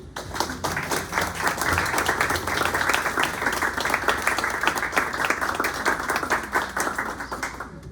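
An audience at a bookstore poetry reading claps for the poet, a full, steady round of many hands close by that keeps an even level throughout, with no talk over it.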